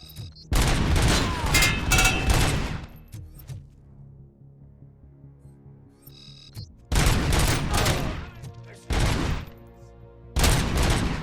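Gunfire in the video game RoboCop: Rogue City: loud, rapid bursts of shots in several clusters separated by short quieter gaps, close and punchy.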